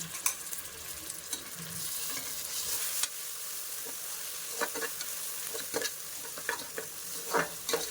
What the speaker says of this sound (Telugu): ఒక టూ మినిట్స్ ఆ అల్లం వెల్లుల్లి పేస్ట్ పచ్చివాసన పోయేంత వరకు ఫ్రై చేయండి